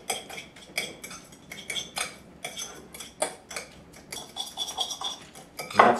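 Yams being mashed with orange juice, giving a series of soft, irregular scraping and clinking taps of a utensil against a pot or bowl, close by with no talk.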